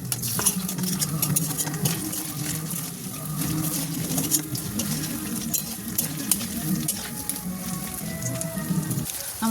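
Paneer pieces fry in oil in a pan for a home-style chili paneer, a steady dense crackle and patter of sizzling with some stirring scrapes, continuous and fairly close, with no talk.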